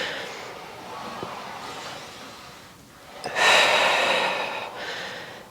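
Breathing during an intermediate Pilates reformer core exercise: soft airy inhales, then a stronger, louder exhale partway through, close to the microphone.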